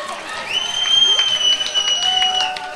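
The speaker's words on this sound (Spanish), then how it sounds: "vamos a despedirlo con un fuerte aplauso" Crowd applause and cheering at a charreada, a Mexican rodeo event, steady and fairly loud for a few seconds with a whistle-like tone over it, in a large open arena.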